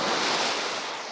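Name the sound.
sea waves at Cobbold Point, Felixstowe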